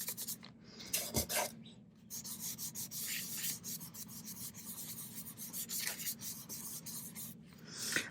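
Soft pastels rubbed on sandpaper, a steady close scratchy grinding with continuous back-and-forth strokes throughout, quiet and without speech.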